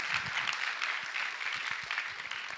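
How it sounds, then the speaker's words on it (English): Audience applause and cheering in a theater at a TEDx college event, a steady dense wash of clapping that fills the whole stretch at moderate loudness. "go ahead, give it a cheer."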